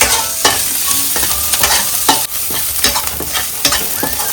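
Onions fry and browning in a hot pan for street-style noodles, a loud close sizzle broken by repeated stirring scrapes and clatters of a spatula, with no talking.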